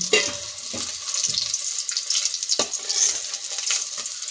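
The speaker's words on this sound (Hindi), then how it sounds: "केले को हम हल्का गोल्डन और क्रिस्पी होने तक अच्छे से फ्राई कर लिए हैं" Raw banana pieces fry in hot oil with a continuous bright sizzle, broken by a few sharp clinks and scrapes of stirring close by.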